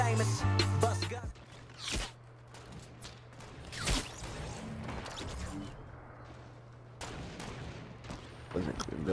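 Gunfire in a Fortnite sniper shootout: several sharp, loud shots spaced a few seconds apart, cracking over a low steady hum with brief mechanical clicks and clatter between them.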